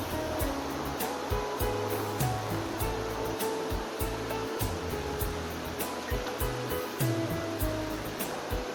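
River water rushes past at a temple in Mangalore, a continuous broad roar of flowing water that stays steady and fairly close for the whole stretch, with no voices.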